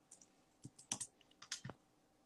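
Quiet, scattered clicks of a computer keyboard being typed on, a handful of irregular keystrokes heard up close in an otherwise quiet room.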